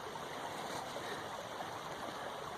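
Creek water flows in a steady, soft rushing burble, faint and continuous with no voices.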